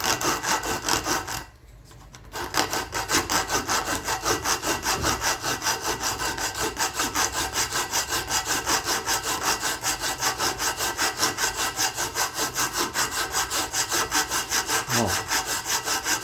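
Steel dagger blank held in a vise and rubbed by hand with a scrap of sanding belt, a steady rhythmic rasping in fast back-and-forth strokes, close and continuous apart from one brief pause.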